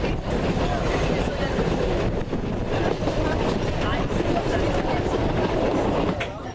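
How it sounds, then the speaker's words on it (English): Vintage train from the 1950s or 1960s riding through Mallorca toward Soller, a steady loud rumble of wheels and carriage noise filling the whole stretch, with talk mixed in over it. "It's fair to say this is not your average train"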